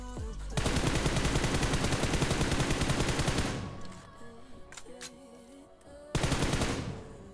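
Rapid automatic gunfire from a close-range gun in the BGMI mobile battle royale game, a loud sustained burst of several seconds, a quieter stretch with scattered shots and game sounds, then another loud burst near the end.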